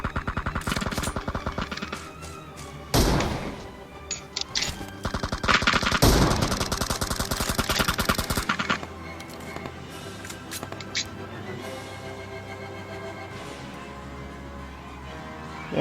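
Rapid video game gunfire bursts out in loud, dense automatic volleys, with a second heavy burst a few seconds later, then quieter in-game background noise as people chatter over it.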